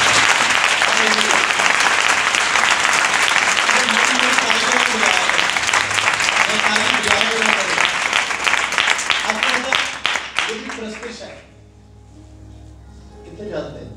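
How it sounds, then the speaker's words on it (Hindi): A church congregation bursts into loud, sustained applause for Jesus Christ, dense clapping filling the room for about ten seconds before fading to quiet murmurs and a few scattered claps. "बजाएं यीशु मसीह के लिए जोरदार तालियां"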